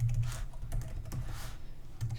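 Steady typing on a computer keyboard while writing Go code for a ping pong program, a close run of soft clicking keystrokes with small pauses, no voices.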